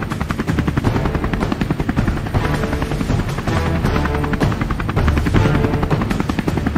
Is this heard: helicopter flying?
yes